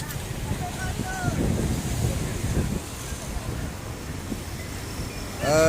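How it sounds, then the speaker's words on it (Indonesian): Gusty wind buffets the microphone over a low rumble of large waves at the Ulee Lheue pier, with faint distant voices in the background. "Emang di dermaga ini sudah biasanya angin kencang dan ombak besar"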